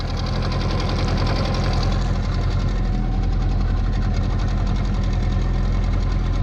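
An outboard motor runs on a PND boat on a spring outing, a loud, close, steady buzzing drone with a rapid knocking pulse that stays even throughout.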